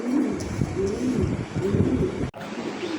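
Pigeons coo at a pigeon farm, with low, throaty, rolling coos repeating close by over about three seconds, overlapping with a faint background hum and a brief dropout near the end.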